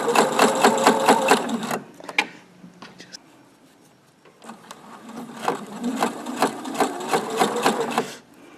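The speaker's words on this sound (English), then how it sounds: "you should just let the fabric the sewing machine feed the fabric through" A sewing machine runs in two steady bursts, its needle hammering rapidly as fabric feeds through, with a short quiet pause between the runs; close and loud, no talk.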